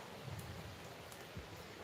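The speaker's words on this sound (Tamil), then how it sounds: "இங்கே ஒரே மழை" Heavy rain falling, a faint, steady broadband hiss that stays even from start to finish, with no voices.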